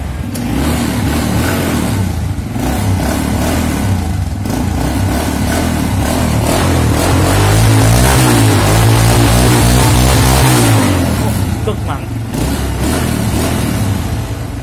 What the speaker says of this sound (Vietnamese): bây giờ mình sẽ nổ máy lên thử coi còn được không nha